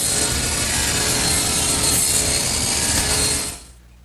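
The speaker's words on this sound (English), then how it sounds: "I've taken my saw and tilted it to 25 degrees" Table saw tilted to a 25-degree bevel ripping through wood, a loud, steady broadband roar of blade cutting that holds for several seconds, then drops off abruptly as the cut ends.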